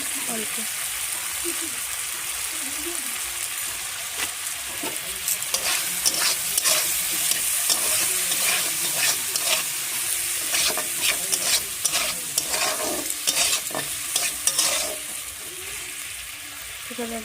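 Food sizzles steadily in a hot pan while it is stirred, with scraping clicks over the frying and a little talk near the start.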